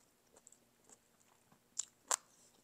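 Tender beef shank from homemade bun bo Hue is chewed softly, with faint wet bites and a couple of sharper crunchy chomps near the end, close and quiet, with no talking.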